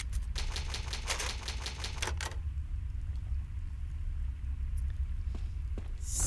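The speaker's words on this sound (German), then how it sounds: "Eine alte Schreibmaschine. Ja, ich habe ein Farbband. Benutze es," An old typewriter in Resident Evil HD Remastered clacks through a quick run of about a dozen sharp keystrikes, then falls quiet under a low ambient rumble with a few faint taps and a closing swell.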